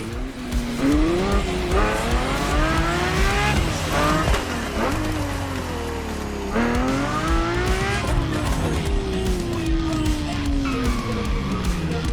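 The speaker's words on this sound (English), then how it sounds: "The car you're about to drive in this opening event is none other than the first Ferrari in the supercar bloodline, the Ferrari GTO" Ferrari GTO supercar in The Crew Motorfest racing game, engine pitch sweeping up and down through gear changes with tire squeals, loud and continuous throughout.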